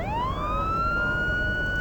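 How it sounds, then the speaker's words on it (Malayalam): An emergency vehicle siren, taken for an ambulance or police car, sweeps up in pitch and then holds a loud steady wail close by, alone with no voices. "ആംബുലൻസിന്റെ സൗണ്ട് ആയിരുന്നു. പോലീസ് വണ്ടിയല്ലേ അത്?"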